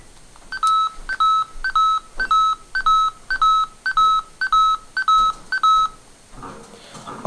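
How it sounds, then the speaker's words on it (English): A Transmorpher toy's alarm: about ten short, evenly spaced electronic beeps, each a steady high tone, repeating rhythmically, then stopping. "And then, if you don't have it pointing on anything, you get the alarm."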